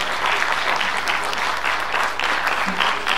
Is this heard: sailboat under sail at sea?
no